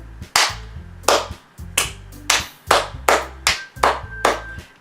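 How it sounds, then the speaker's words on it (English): A burst of sharp, crisp claps in a steady rhythm in Doki Doki Literature Club, about eight distinct hits over a few seconds, with a low musical tone underneath. "I'm the first to start applauding."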